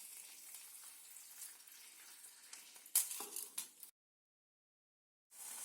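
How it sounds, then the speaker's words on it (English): Hamburger meat frying in a pan, a close, steady sizzle and crackle with a few sharper pops and stirring scrapes, then a moment of silence before the sizzling resumes. "Then cook the meat in the pan."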